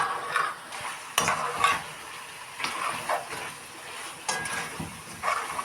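Chicken livers and gizzards with garlic fry in a pan over a low sizzle, broken by repeated scraping strokes and light metallic clinks of a utensil stirring, close and unhurried.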